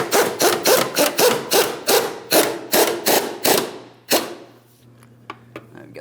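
A fuel tank strap bolt on a GMC Sierra 2500 HD being snugged up, giving a rapid, regular run of close ratcheting clicks that stops abruptly, followed by a few faint taps.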